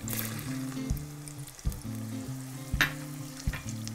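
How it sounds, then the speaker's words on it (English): Onions and garlic frying in melted butter and olive oil in a soup pot over medium heat, a close, steady sizzle with occasional clinks and stirring knocks, and a low tonal hum beneath, no speech. "So now I'm going to add my onions and my garlic"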